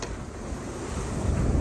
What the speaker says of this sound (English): Gulf waves, like a washing machine.